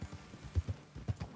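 Horse hooves clip-clop on the ground in the Red Dead Redemption 2 video game, a handful of uneven thudding steps at a slow walk, close and fairly quiet, with no talking.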